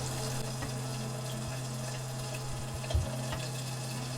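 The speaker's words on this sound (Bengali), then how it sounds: "মাছে বলক চলে এসেছে, এখন আমি মাছগুলো আস্তে আস্তে উল্টিয়ে দিব" A pot of fresh Hilsa fish curry bubbling steadily as the soft fish pieces are gently turned, a constant low simmering hiss with a few faint soft knocks, no talking.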